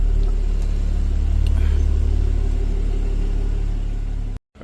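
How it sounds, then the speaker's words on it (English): A BMW 335i engine idling: a steady, loud low rumble held evenly for several seconds, then abruptly cut off near the end. "gonna let it idle for 2 minutes"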